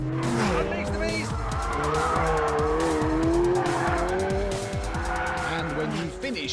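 A McLaren 720S drifting in variable drift control mode, tires squealing loudly and continuously over a revving, wavering engine note, with a voice briefly heard over it.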